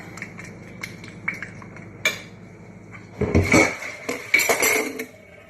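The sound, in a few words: mixing cookie cake dough in a small bowl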